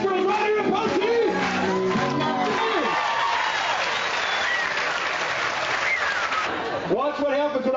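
A festival crowd at the 50th Poteet Strawberry Festival claps along to a song, loud rhythmic clapping mixed with cheers, whoops and shouting voices over the music throughout.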